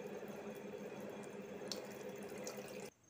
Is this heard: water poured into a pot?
yes